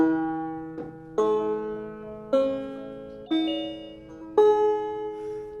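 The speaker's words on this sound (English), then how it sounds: "If your banjo is tuned to an open G, it should sound like this." Banjo strings in open G are plucked one at a time, five ringing notes spaced about a second apart, each decaying before the next.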